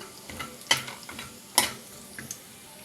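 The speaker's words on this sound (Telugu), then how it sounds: "ఆయిల్ హీట్ అయింది ఇప్పుడు ఒక గుప్పుడు పల్లీలు వేస్తున్నాను వీటిని వేయించుకుందాం" A handful of peanuts frying in hot oil for poha, a low background sizzle broken by a few sharp clatters and scrapes from stirring; no voices.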